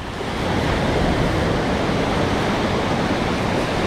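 Waves break and wash on the beach at Praia Grande in Arraial do Cabo, a steady, loud roar of surf that fills the whole moment with no talking.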